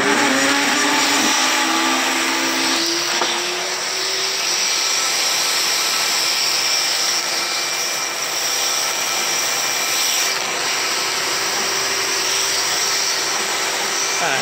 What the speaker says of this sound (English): I'm going to start the vacuum. And you're going to see it suck right down fast.